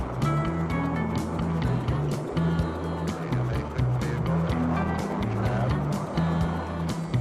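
Mercury MA6 rocket launch roar: a dense, rumbling, crackling noise with a pulsing low-end throb, heavy and continuous throughout with no clear talk over it.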